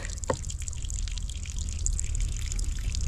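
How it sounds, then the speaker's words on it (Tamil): A thin stream of water from a homemade free energy pump pours into a bucket, a steady trickling splash with a faint drip near the start, continuous and fairly close. "வந்து தண்ணி ஊற்றிக்கிட்டு இருக்கு பாருங்க"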